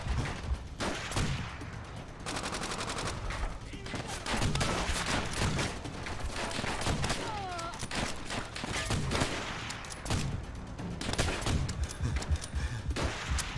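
Rapid gunfire rattles through a World War II battle in the video game Call of Duty: World at War, with dense bursts of rifle and machine-gun shots, some close and sharp, others distant, continuing in uneven volleys.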